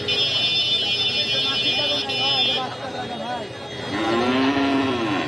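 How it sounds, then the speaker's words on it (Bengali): Cattle low repeatedly at a busy post-Eid village cattle market in Naogaon, Tarash, Sirajganj, with long drawn moos near and loud, a high electronic tone in the background, and people talking throughout. "আজকের নওগাঁর হাটে গরু উঠছে অনেক।"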